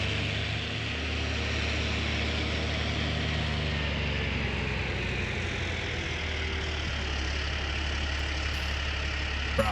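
A tractor engine idling in Farming Simulator 19, a low steady rumble and hum that holds even and close throughout with no talk.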